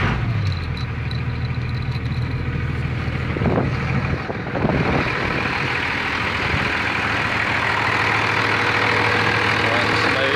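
A 1999 24-valve 3500 engine cranked up and idling steadily, a constant low rumble with wind buffeting the microphone and a brief clatter partway through.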